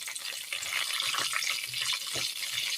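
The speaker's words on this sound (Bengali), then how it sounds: "আর অবশিষ্টগুলো আমি আরও একবার ফ্রাই করে নিচ্ছি" Prawns deep frying in hot oil for a restaurant-style fry, a soft, continuous bubbling hiss at moderate volume with occasional light knocks of a utensil.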